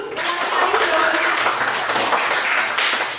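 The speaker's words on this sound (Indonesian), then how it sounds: "Tepuk tangan dulu." Children clapping their hands in a classroom, a dense continuous patter of many small hands applauding together for several seconds, close and lively, with voices mixed in.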